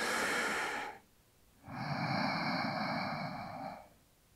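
Two deep breaths during a yoga practice: a short exhale, a brief pause, then a longer, louder, airy breath, close and alone without talk.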